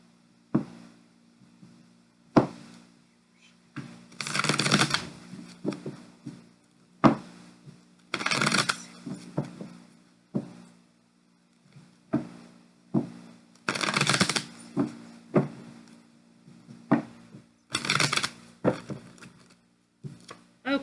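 Oracle cards are shuffled by hand in repeated bursts of crisp riffling and tapping, several distinct clusters spaced a few seconds apart, close and fairly quiet over a faint steady hum, with no talking.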